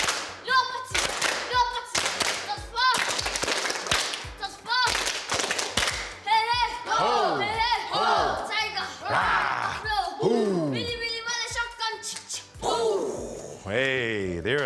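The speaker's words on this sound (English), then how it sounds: "we'll just clap" A group of people at a rugby club awards night clap together in sharp bursts, then cheering voices and laughter take over for the rest.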